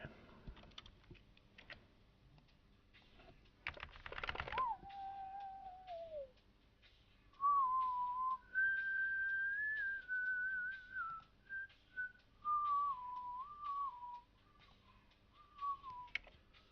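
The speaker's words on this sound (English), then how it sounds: "Whistle when you work." A person whistling a meandering, wavering tune while drawing a font at a desk, close and clear, with a burst of keyboard clatter just before the whistling starts and quiet clicks between phrases.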